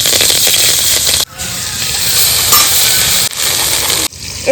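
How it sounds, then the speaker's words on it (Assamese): Star fruit frying in a pan in a village-style Assamese open kitchen sizzles loudly and steadily, with two brief drops in the hiss as the cooking is stirred or interrupted. "এইফালে কৰ্দৈখিনি ভাজি লওঁ"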